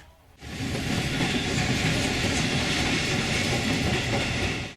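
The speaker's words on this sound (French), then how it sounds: "Notre train roule à bonne vitesse dans la campagne hongroise." A train runs at speed through the Hungarian countryside, a loud steady rumble with rail clatter and broadband noise that starts abruptly and holds throughout.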